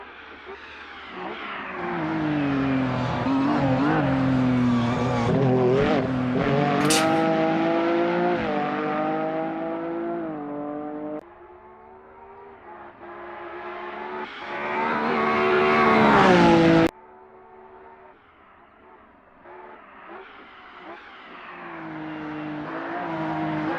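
A video game race car engine on a hillclimb course revs hard and shifts through gears, pitch rising and falling, easing off briefly before surging again; loud and continuous with no talking.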